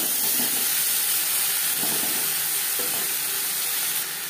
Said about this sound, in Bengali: পেঁয়াজ লালচে করে ভাজা হয়ে গেছে। এই পর্যায়ে দিয়ে দেবো ঝিঙে।